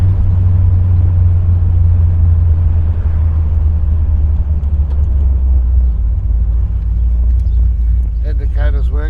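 A 1968 Chevrolet Corvette engine rumbles steadily and loudly up close, a deep continuous drone with a brief voice rising near the end.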